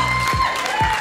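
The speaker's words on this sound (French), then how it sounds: "sous vos applaudissements" Studio audience at a French comedy stage show applauds and cheers for a contestant, a steady wash of clapping with whoops rising over it, close and loud throughout.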